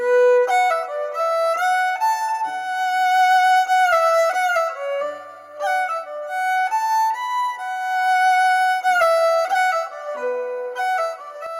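Recorded fiddle melody played in full takes, bright and continuous with sliding sustained notes, a faint cello sitting low in the background throughout.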